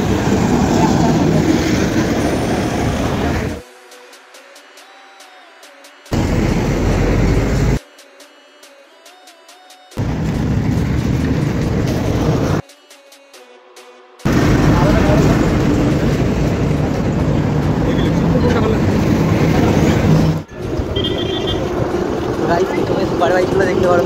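Kawasaki Z900 and BMW S1000RR superbikes revving at a superbike meetup at Dankuni Toll Plaza, Kolkata. Loud, close engine roar cut into segments by abrupt silences, with voices mixed in.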